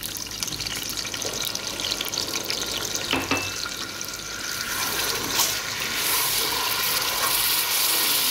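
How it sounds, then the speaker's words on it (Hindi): Milk is poured into a cooking pan with browned cardamom and sugar for zarda, a steady loud hissing, sizzling pour that grows slightly fuller toward the end, with no speech. "साथ डाल देती हूँ दूध"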